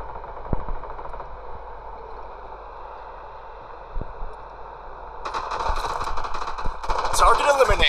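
Gunfire in the mobile shooter Project Bloodstrike: a few isolated distant shots early, then a rapid crackling burst of automatic fire building toward the end over steady game ambience.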